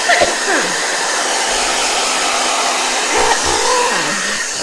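A hair dryer running on its low setting, a constant breathy whoosh with a steady motor hum, close and fairly loud, with faint voices murmuring beneath it.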